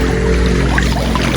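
A river flows between landslide-damaged banks, making a loud, steady rush of water close by that continues without a break and with no voices over it.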